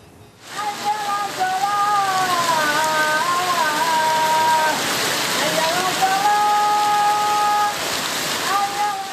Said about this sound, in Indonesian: Angin puting beliung yang disertai hujan deras ini menerjang kawasan permukiman warga